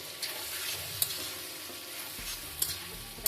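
A tomato and tindora curry is stirred in a pan, giving soft scraping strokes over a low, steady sizzle, with a few sharp clinks of the spoon against the pan.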